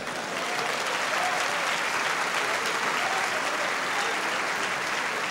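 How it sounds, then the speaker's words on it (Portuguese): An audience at a religious sermon breaks into sustained applause. Dense, even clapping fills the whole stretch without a pause. "Dê um aplauso ao Messias."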